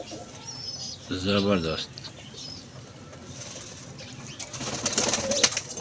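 Banke high-flyer pigeons coo softly with bursts of wing flapping, while someone speaks over them in the foreground.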